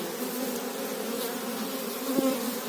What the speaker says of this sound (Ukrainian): Це що бджола літає ще, лотна бджола є